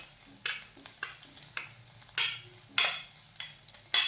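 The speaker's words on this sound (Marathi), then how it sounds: "धना पावडर, गरम मसाला, हळद आणि हे मसाले छान आपल्याला परतून घ्यायचे आहेत" Coriander powder, garam masala and turmeric sauté in a pan for Shegaon kachori filling, with a soft sizzle broken by about eight sharp scraping stirs of a spatula, close and uneven, with no voices.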